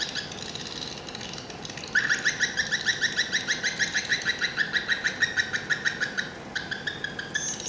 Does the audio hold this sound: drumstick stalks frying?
no